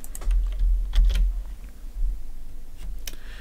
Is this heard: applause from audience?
no